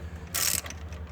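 A ratchet loosens a tight transmission mount bolt on a 2013 Nissan Murano during a CVT replacement: a short, loud burst of clicking pawl noise near the middle, over a low background hum.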